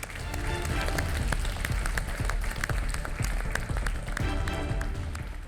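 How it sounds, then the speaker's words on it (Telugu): Contestants in the MasterChef India Telugu kitchen receive a round of applause: dense, sustained clapping fills the room at a steady level from start to end and fades slightly at the close. "give your self a big round of applause"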